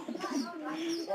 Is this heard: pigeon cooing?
yes